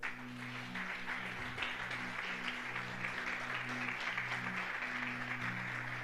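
A church congregation applauds during a worship service, with steady clapping from many hands over a low sustained musical drone, evenly loud from start to finish.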